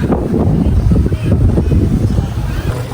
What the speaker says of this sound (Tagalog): Oh, lakas po ng hangin